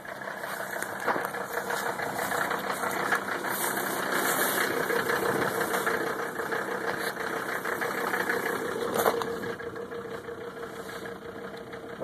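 An old engine running on stale fuel idles steadily and fairly loud throughout, with a constant mechanical hum and faint knocking texture, and no voices.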